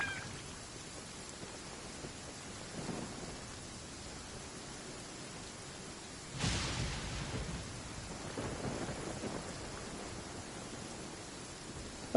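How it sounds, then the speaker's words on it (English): Rumbling thunder from a Genshin Impact storm rolls through a steady rain-like wash, with a sharper crack and swell around the middle that fades into a long low grumble. No voices. "Thunder. Lightning."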